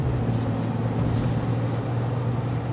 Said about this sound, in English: you're going to be hearing the turbo diesel